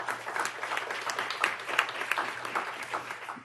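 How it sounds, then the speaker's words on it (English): Audience members at a symposium clap together in a steady burst of applause that holds at moderate volume throughout, with no voices over it. "So that does deserve an applause."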